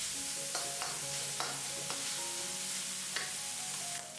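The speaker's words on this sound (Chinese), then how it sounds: "快速翻炒均匀，把姜蒜、香菇炒出香味" Ginger, garlic and diced shiitake mushrooms are stir-fried in a wok, a steady sizzle broken by repeated scraping strokes of the spatula, moderately close, with no talking.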